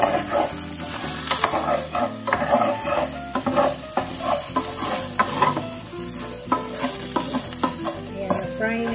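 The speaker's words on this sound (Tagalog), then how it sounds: "fry na din yung patatas" Potatoes fry in a pan for corned beef with peas, a loud, close sizzle under repeated stirring and scraping strokes, with no speech.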